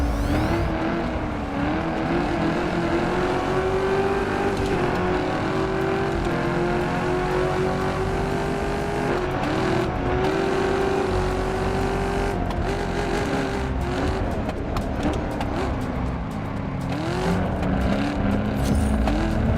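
Lamborghini climbing a hill in the racing game Test Drive Unlimited Solar Crown, its engine roaring steadily and loud throughout, pitch rising and dipping with gear changes and throttle, close with no talk.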